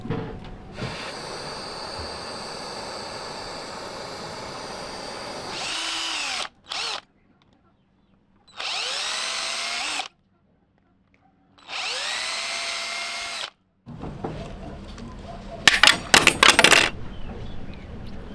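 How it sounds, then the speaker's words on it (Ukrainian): An electric drill whirs in several bursts, drilling a 2 mm hole through the center of a part for a homemade fishing mechanism, spinning up and stopping with pauses between, followed by clicking and rattling of small metal parts. "Свердлимо отвір на 2 по центру."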